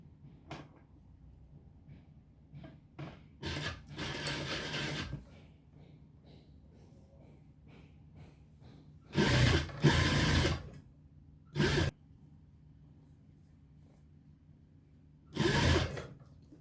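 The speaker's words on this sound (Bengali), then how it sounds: "ঠিক যখন সেলাই দিবেন যাতে আপনার সেলাইটা খুব সমান সমান থাকে।" Sewing machine stitching a neck design on a garment, heard in several short bursts, with longer runs of stitching near the middle and at the end, between quiet pauses and small handling knocks.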